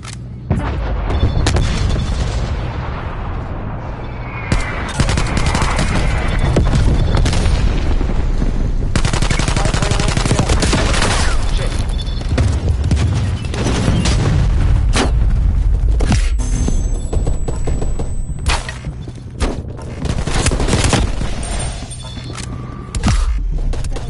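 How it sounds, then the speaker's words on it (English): Artillery fire and explosions in the video game Black Ops Cold War: dense, continuous booms and blasts with bursts of gunfire, loud and rumbling throughout, with no talk. "Hostile artillery turrets in action. Artillery inbound."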